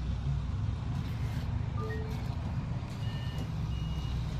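A truck in the Bus Simulator driving game, its steady low engine rumble filling the clip with faint intermittent reversing-style beeps, continuous and fairly loud.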